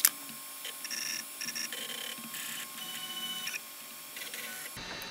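A JGAurora A3S 3D printer runs quietly, its stepper motors whining in steady tonal bursts that shift in pitch as the head moves, with a soft mechanical hum underneath and no talking.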